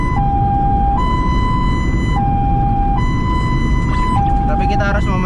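Ambulance siren blaring from the vehicle itself while driving to evacuate a patient, a loud two-tone wail alternating roughly every second, steady over road rumble with a voice talking underneath.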